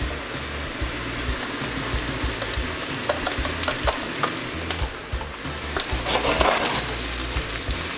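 Quartered Brussels sprouts fry in a hot pan with a steady, moderately loud crackling sizzle and occasional sharper pops, heard alone with no talking.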